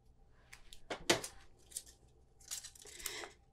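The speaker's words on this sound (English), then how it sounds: "So now we'll get out a little bit of tear and tape." Tear and Tape adhesive is pulled and torn off the roll during paper crafting of a treat box, with a few close, crisp ripping and crackling bursts separated by brief pauses in a quiet room.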